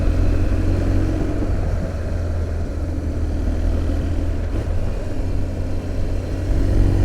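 A BMW R1200GS motorcycle engine pulls steadily under power, a loud continuous low rumble that holds nearly level throughout with a slight rise near the end, no voices present.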